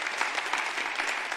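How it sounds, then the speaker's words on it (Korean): A church congregation at a Korean conference service gives a short burst of steady applause, moderately distant and unbroken. "우리 박수 한번 같이 쳐드릴까요?"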